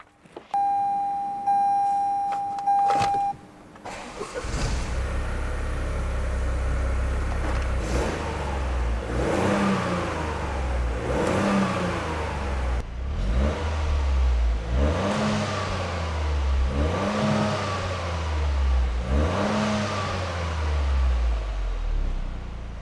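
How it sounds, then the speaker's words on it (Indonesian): A Toyota GR Yaris (GRMN) engine starts and revs repeatedly, rising and falling in pitch with a raspy exhaust note, loud and close, after a brief electronic beep. "tadi kita juga udah dengar suara knalpotnya"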